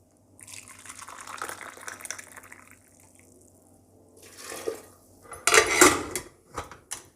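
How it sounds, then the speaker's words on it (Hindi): Water poured from a cup into a cooking pot of urad dal and rajma for dal makhani, a soft splash and trickle that rises in two bursts with light clinks of the pot near the end. "इसमें मैं 4 कप पानी डाल दूँगी।"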